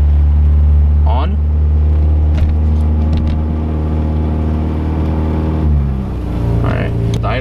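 A Nissan Hardbody truck engine idles close by with a steady low drone that shifts in pitch partway through as the idle changes, while the engine runs on Megasquirt fixed timing; a person talks over it.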